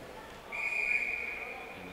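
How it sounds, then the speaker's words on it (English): A referee's whistle sounds one sustained, shrill blast at a college club ice hockey game, RPI against Marist, rising clearly over a low hum of arena crowd noise. "And Whitehead will simply glove that down for the whistle."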